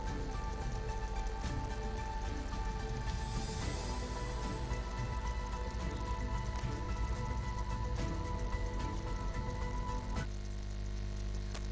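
Steady evening rain patters on surfaces in Gujarat's Sabarkantha area, a continuous even rush with dense droplets throughout, heard alone without talk.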